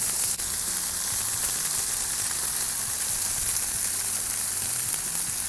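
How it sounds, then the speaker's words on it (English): Slider patties sizzle on a hot griddle in a steady, loud, close frying hiss that continues unbroken for the whole stretch, with no voices over it. "as those patties start to cook up and finish off"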